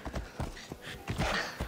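Hooves clip-clop in a steady rhythm from a horse in the video game Assassin's Creed Odyssey, the thudding steps close and moderately loud, followed by a brief rustle of movement.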